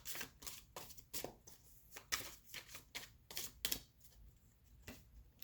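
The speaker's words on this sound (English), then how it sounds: "as I shuffle my cards" Tarot cards are shuffled in quick, crisp bursts, a series of riffling flicks and soft slaps repeating close up in a quiet room.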